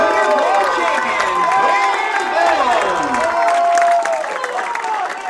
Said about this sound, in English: Let's give a round of applause to your U18 boys 2021 junior world champion